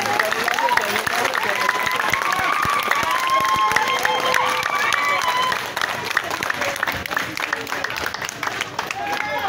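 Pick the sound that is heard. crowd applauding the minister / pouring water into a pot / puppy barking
crowd applauding the minister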